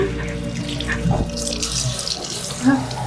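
Water runs from a tap into a sink in a steady, close splashing stream, with a brief louder gush partway through and a short clink near the end.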